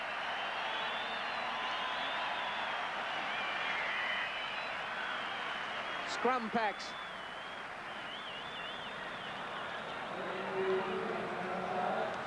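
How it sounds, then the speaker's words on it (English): Stadium crowd applause for a rugby league player leaving the field during a State of Origin match, New South Wales against Queensland in 1989; a broad, steady roar of clapping and cheering spreads through the stands under a commentator's voice. "Here's the applause for Vaughton."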